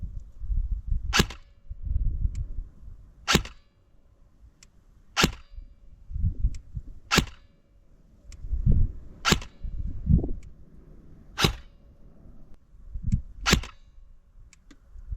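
A KWA gas blowback airsoft gun fires at a target: seven sharp, loud cracks spaced about two seconds apart, each followed by a low thump, with no voices.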